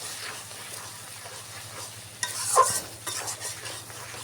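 Spicy pangas fish bhuna stirred in a pan, a quiet sizzle with a brief burst of scraping and clinking from the spoon near the end.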